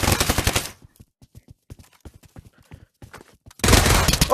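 Gunfire in an SCP video game: a dense loud burst of rapid shots, then a stretch of sparse, fainter clicks and pops, and another loud sustained volley at the end.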